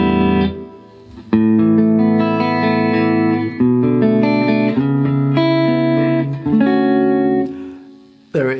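Sustained electric guitar chords ring through a Blackstar St James EL34 combo amp on its clean channel. They change every second or so with a warm, full tone and a short silence near the end, and no one talks.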